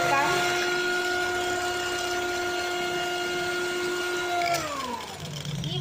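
A cake batter for a marble cake being beaten with an electric beater, giving a loud, steady motor whine that holds an even pitch, then slows and drops near the end.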